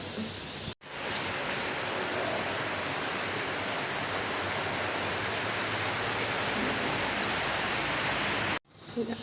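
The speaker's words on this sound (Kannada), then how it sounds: "ಮಳೆ ಬಿಡ್ತಾನೇ ಇಲ್ಲ" Steady, dense rain pours down continuously, a loud broadband hiss with brief drops in level near the start and end.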